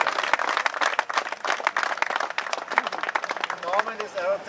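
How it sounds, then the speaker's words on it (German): Crowd applause for the organizer at an ATMAS 2013 race event, a spatter of distinct claps of uneven rhythm, moderately loud, with a voice speaking over it toward the end. "nochmal einen kräftigen Applaus für Wechselberg Alois"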